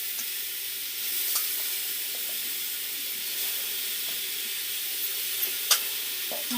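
Onions frying in a pan, giving a steady, close hiss and crackle with occasional sharper pops and faint stirring, with no talk.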